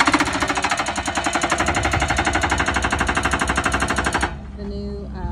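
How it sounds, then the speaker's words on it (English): Rented rock hammer breaking rock at an RV site, a loud, rapid, steady hammering that pounds close up for about four seconds, then stops and leaves engine idle and light noise. "But Shane has got a rock hammer here that we rented"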